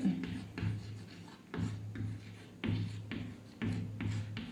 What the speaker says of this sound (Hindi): पहले मैं प्रश्न को लिखता हूँ